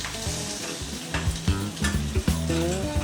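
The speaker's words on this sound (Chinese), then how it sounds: "继续热锅不对，热铁板下油，虾子进来" Shrimp frying in oil on a hot oiled mini folding teppanyaki griddle, a steady close sizzle with repeated clanks and scrapes from a spatula on the metal plate.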